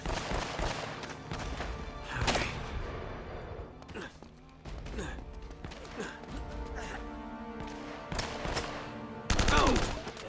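Gunfire and explosions in the video game Uncharted: Drake's Fortune come as scattered bursts and sharp cracks over a shifting game soundtrack, with a louder burst near the end.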